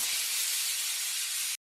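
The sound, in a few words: pressure cooker releasing steam while boiling chickpeas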